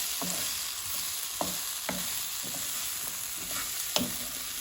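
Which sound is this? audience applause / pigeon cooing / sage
sage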